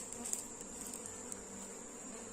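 Strong honey bee colony, newly merged, humming around a wooden hive box rubbed with onion; a steady, dense drone of many wings holds evenly throughout, moderately close and fairly soft, with no voices.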